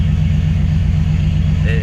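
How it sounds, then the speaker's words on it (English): A Chevrolet S10 truck engine tuned slightly rich idles with a steady low rumble, close and continuous. "This motor tends to like to idle a little bit more on the rich side."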